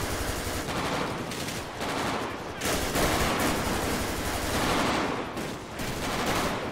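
Rapid bursts of automatic gunfire in GTA 5 during a police gang-unit shootout, dense and continuous, with loud volleys rising and falling over the whole stretch.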